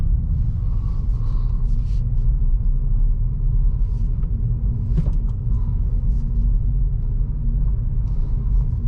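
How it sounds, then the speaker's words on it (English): A 2023 Acura Integra's engine rumbles steadily from inside the cabin while driving, its low drone dipping and rising through a downshift, with a brief mechanical clunk near the middle. "Now I'm going to downshift."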